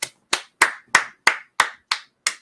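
Eight separate, evenly spaced claps ring out close and crisp at a talk, each sharp hit decaying quickly before the next, like a small group clapping in unison.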